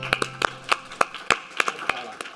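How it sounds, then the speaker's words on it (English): Sparse, uneven clapping from a small audience at a B2B digital advertising talk, a dozen or so separate hand claps spread over a couple of seconds, fairly close and without cheering. "Ladies and gentlemen, round of applause for Joel."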